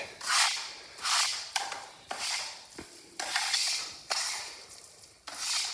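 Epoxy resin is folded and rubbed into dry wood dust directly on a herringbone wood floor, producing loud, rhythmic scraping strokes in close bursts about every second, with no talking.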